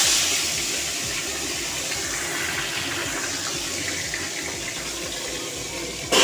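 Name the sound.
tangra fish frying in mustard oil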